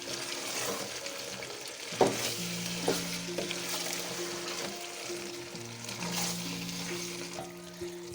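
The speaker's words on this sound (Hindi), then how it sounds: "अब मैंने ये मेथी डाल दी और अच्छी तरीके से मेथी यानी ये सब्ज़ी भून लूँगी एक और मरतबा" Minced keema with fenugreek leaves fries in an oiled pan, a dense close sizzle broken by a few scraping stirs and clinks of the spoon against the pan.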